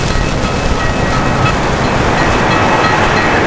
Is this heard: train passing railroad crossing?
yes